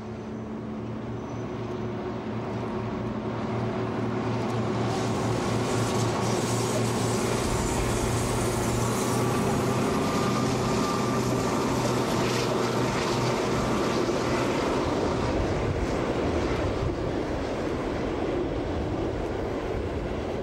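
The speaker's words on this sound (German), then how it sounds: "Mit einem Sonderzug verlässt sie Anfang der 90er Jahre den Bahnhof Zoo in Berlin." A V200 diesel locomotive rumbles and drones as it pulls a special train out of Berlin Zoo station, its engine noise swelling steadily and holding loud throughout.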